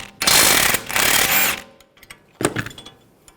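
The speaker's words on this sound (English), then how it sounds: "Take this bolt out, 18mm socket." Ratchet with an 18mm socket working a strut bolt loose on a 2007-2013 BMW 328i front suspension: two sustained bursts of fast clicking and whirring, then a shorter burst after a pause, close and fairly loud.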